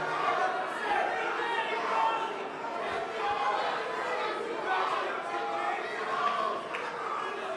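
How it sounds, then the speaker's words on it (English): A press-conference crowd chatters and shouts, with overlapping voices forming a steady, fairly loud murmur and occasional louder calls. "Cute little crowd we got here."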